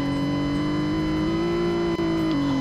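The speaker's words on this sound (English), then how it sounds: "So of course this thing is gas powered, not electric, as you can hear." Gas-powered car engine while driving, a steady close droning hum with a slowly rising and falling pitch as the engine revs slightly, continuous and loud with no talk over it.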